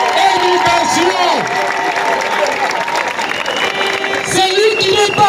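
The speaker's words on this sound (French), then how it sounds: "Je demande d'applaudir SOS Éducation." Crowd applauding at a gathering for an education advocacy group, continuous clapping with cheering voices over a held tone, fairly loud and close throughout.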